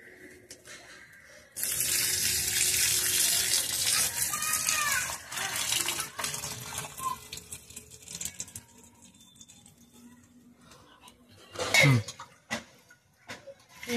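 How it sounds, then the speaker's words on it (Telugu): Tap water pours into a pot of washed lentils for cooking, a loud, steady rushing splash nearby that eases off partway through, followed by faint clinks of a pot. "వాటర్ అయితే పోస్తున్నాను ఇందులో"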